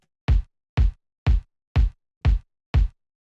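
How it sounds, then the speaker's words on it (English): Six punchy, processed house kick drum hits, pitched down and saturated, land in an even, evenly spaced sequence, each a deep booming thump with a short decay, loud and isolated against silence. "It's just like a powerful kind of like housey kick."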